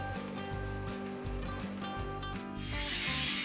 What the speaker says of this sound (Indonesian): Lakukan penghalusan pada hasil pengelasan